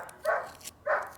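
Two short, sharp barks from a dog, spaced about half a second apart, moderately close and fairly loud over a quiet background.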